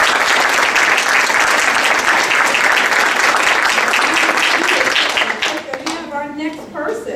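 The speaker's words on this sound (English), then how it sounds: "Let's give Mr. Woods an applause" Audience at a Board of Education meeting applauds with dense, sustained clapping for several seconds, then the clapping fades and a voice begins speaking.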